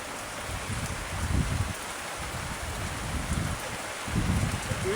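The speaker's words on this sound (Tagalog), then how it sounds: "Biglaan ng ulan ba?" Sudden rain falls beside a wide river, a steady hiss of drops with a broad wash of water noise and occasional low gusts, continuous and moderately loud with no talk.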